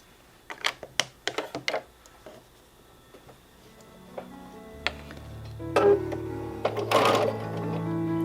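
Sewing machine stitching a quarter-inch seam on a layered Dresden plate quilt piece: a few sharp clicks of handling first, then the motor's steady whirring hum building up close.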